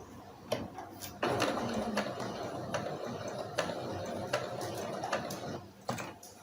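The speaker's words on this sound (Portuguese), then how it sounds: "A gente vai costurando, vai girando o tecido, acompanhando o risco do molde." Sewing machine stitching fabric along a pattern line for a cloth doll while the fabric is turned, a quiet buzzing run of stitching broken by sharp ticks and clicks at irregular intervals.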